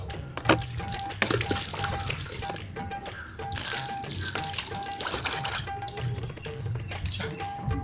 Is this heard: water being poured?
yes